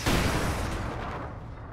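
A Panzerfaust fired by Volksgrenadiers in Company of Heroes 2, a loud booming launch blast with a rumbling, noisy tail that fades over under two seconds, heard alone.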